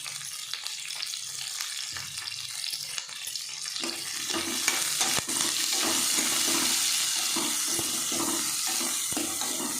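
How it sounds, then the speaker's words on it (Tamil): Sliced onions frying in a pan, a soft continuous sizzle that thickens and grows steadier midway, with occasional light clinks of a utensil, heard close with no talk. "இப்போ வெங்காயம் வந்து நல்லா ஃப்ரை ஆகட்டும்"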